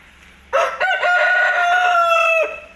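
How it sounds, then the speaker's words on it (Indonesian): One long crow from a rooster kept at a house in Indonesia rings out near and loud for about two seconds, rising sharply then sustaining evenly before cutting off, with no voices over it. "suasana kalau sore dan pagi, keluruk-keluruknya ayam ini"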